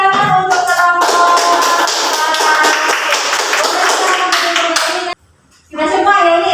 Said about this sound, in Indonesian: Silakan tepuk tangan untuk kelompok.